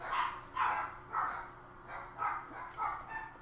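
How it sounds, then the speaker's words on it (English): Dogs bark faintly in the background, about six separate woofs spaced fairly evenly across a few seconds, distant and muffled. "Sorry if you can hear the dogs barking in the background."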